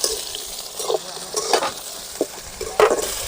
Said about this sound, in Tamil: நல்லா வணக்கி எடுத்துக்கணும் பாவக்காய்